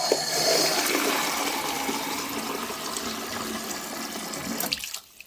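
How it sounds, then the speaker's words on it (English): Tap water runs steadily into a jug set in the middle of a kitchen sink, a loud continuous hiss and splash that holds for several seconds before the flow cuts off abruptly. "get a jug and put it in the middle of your sink. Then fill it up."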